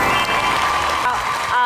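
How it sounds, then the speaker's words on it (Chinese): A studio audience on a Chinese talk show claps to welcome a guest, a dense sustained burst of applause with voices mixed in. "来，我们掌声有请"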